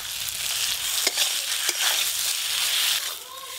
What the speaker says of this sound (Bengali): আলুটাও মশলার সাথে খুব ভালো করে কষে নেব।